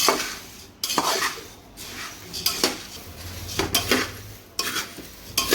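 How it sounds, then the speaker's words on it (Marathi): A spoon scrapes and clatters against a metal pan in repeated stirring strokes, with a soft dry sizzle of puffed rice roasting on low heat underneath. "असं भाजून घेतो आम्ही"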